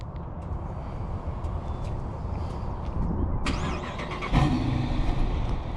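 A Dodge Charger RT on a street cranks and fires up around the midpoint, then settles into a steady, fairly quiet idle over low road and ambient rumble, with no talking.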